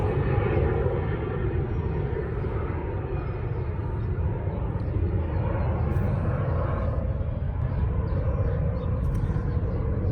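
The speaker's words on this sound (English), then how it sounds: "Sorry for the plane noise." An airplane roars overhead, a loud, continuous low rumble that fills the whole stretch without pause.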